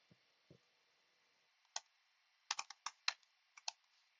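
Keyboard typing on a computer in a quiet room, a few isolated soft clicks at first, then a quick burst of sharp, close keystrokes in an uneven rhythm.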